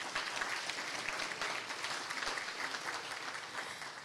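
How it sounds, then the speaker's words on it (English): Audience round of applause at a fundraiser event, a steady dense wash of many hands clapping for several seconds, moderately loud and without talk over it. "So give yourselves a round of applause."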